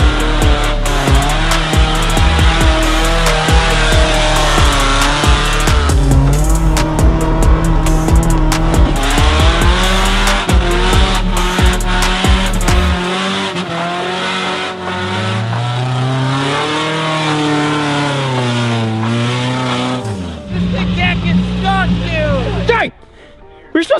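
A high-geared mud truck labors through deep mud in first gear, its loud engine droning and straining throughout with pitch rising and falling, then cutting out near the end; voices talk over it.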